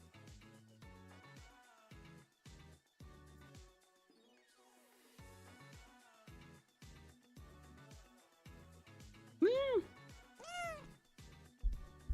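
A small, adorable cat meows a couple of times close by, the upward-bending calls rising clearly over a busy background of music or stream audio, with a person speaking at moments.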